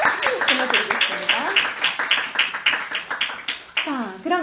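Clapping from a congregation at a Christmas church service, with a steady patter of hands underneath a voice that keeps talking over it throughout.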